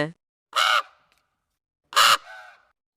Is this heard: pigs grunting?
no